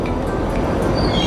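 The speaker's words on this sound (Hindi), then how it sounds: "मेट्रो आ गई, देखिए पुरानी मेट्रो है यहाँ पर" A Tashkent metro train rumbles loudly and steadily into an underground station, with a dense, close, continuous roar of wheels and motor.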